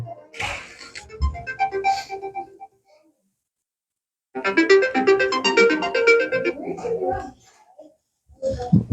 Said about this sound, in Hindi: बरसाने से फोन आ रहा है।